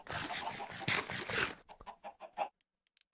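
Minecraft chickens cluck in a quick, busy cluster, then trail off into a few sparse, spaced clucks, all fairly quiet with no talking.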